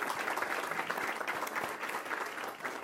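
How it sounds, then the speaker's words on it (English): An audience at an anniversary gala applauds a speaker, producing a continuous, fairly soft wash of many hands clapping for about three seconds, with no voices on top. "A round of applause for Dan, please."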